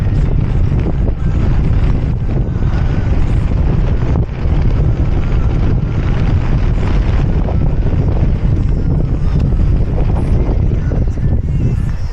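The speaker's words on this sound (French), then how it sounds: "J'arrive même pas à parler tellement qu'il y a du vent." Strong, relentless wind roars through the Gorges de Galamus mountain gorge, buffeting the microphone in a loud, unbroken rumble with occasional gusts; no one speaks.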